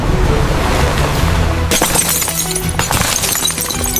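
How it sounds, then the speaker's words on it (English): Stone shattering and crashing into water during the Lisbon disaster, a loud continuous roar of breaking debris and splashing that swells sharply partway through, with dense clattering fragments throughout. "The sound of the stones breaking and falling into the water is deafening."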